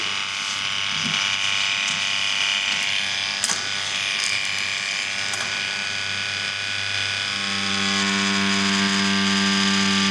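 A tattoo machine set to 109 hertz at 8.3 volts buzzes steadily on practice skin, a constant close electric drone with a few brief clicks partway through and no voices.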